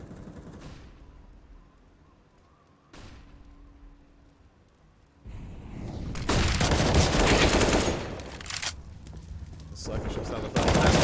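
Gunfire crackles in a Counter-Strike match during an ESEA Open playoff game. After a quiet start with a few isolated shots, dense rapid bursts of automatic fire erupt and keep going loudly to the end.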